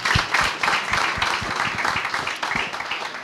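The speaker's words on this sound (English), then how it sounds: "give a round of applause to our public service colleagues in Public Service Week" Audience applause for public service colleagues at a police recognition ceremony luncheon, a steady, moderately loud wash of many hands clapping for several seconds with no voices over it.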